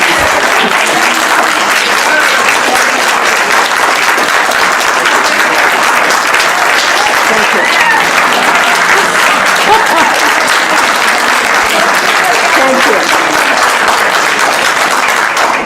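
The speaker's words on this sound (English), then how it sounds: "save the applause till the end." Sustained audience applause at a heated debate, dense, loud clapping from a large crowd that holds steady for many seconds without letting up.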